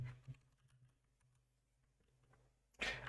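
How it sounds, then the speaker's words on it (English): A new computer keyboard clacks under fast typing, with quiet scattered keystrokes over a low hum and a louder burst of clicks right at the end, close and with no voices. "that's a new keyboard."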